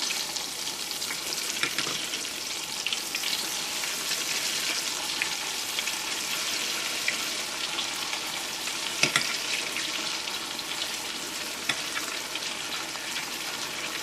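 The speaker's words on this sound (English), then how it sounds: "I'm going to be using my deep fat fryer set at 375 degrees." Chicken nuggets deep frying at 375 degrees in an electric deep fat fryer, giving a steady, dense bubbling sizzle that holds unbroken for the whole stretch, close and fairly loud, with no voices over it.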